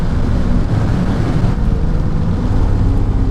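A supercharged Mercedes-Benz E55 AMG W210 with a Kleemann 55-K2 kit and a misfire pulls at wide open throttle. A dense, roaring low rumble is mixed with heavy wind noise, steady and loud, with no talk.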